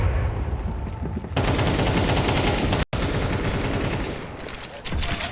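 Loud, sustained automatic gunfire from a Counter-Strike esports match rattles close and continuous, broken by one brief gap before the firing picks up again.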